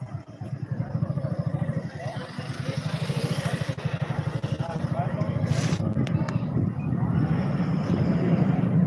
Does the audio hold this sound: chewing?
no